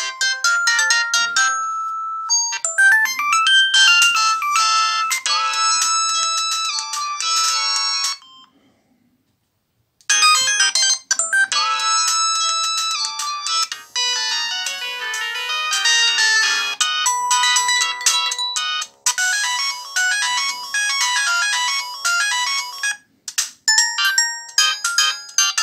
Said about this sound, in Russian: Ну, вот такие мелодии в нашем Самсунге.